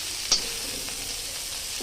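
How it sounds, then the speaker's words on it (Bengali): Cauliflower frying in hot oil in a kadai for a Bengali mixed-vegetable navratan dish, giving a steady, fairly soft sizzling hiss with one brief stirring clink near the start and no talk. "ফুলকপিটা আমার মোটামুটি ভাজা হয়ে গেছে"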